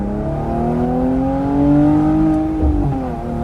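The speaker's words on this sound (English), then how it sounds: "I'm going to show y'all what it's like to redline in an AMG" A Mercedes-AMG C43 engine revs up steadily toward redline, its rising harmonic whine climbing and holding loud and close for a few seconds, with a brief shift blip near the end and no talking.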